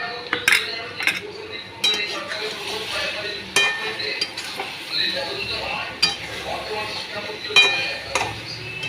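Raw mango pickle stirred in a pot, a spoon scraping and clinking against the metal in irregular strokes over a soft background sizzle, fairly close.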